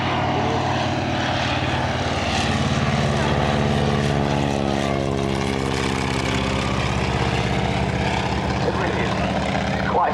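A Piper Cub light aircraft performs an airshow display, its propeller engine droning steadily and loudly throughout, with a pitch that rises and falls as it passes, while a commentator talks over it.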